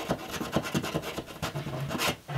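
Screwdriver enlarging a hole in a wall, repeated close scraping and rasping strokes in a quick uneven rhythm, fairly loud, with no talk.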